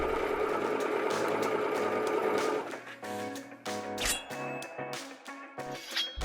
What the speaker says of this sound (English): another option is to clean finish those edges at the serger.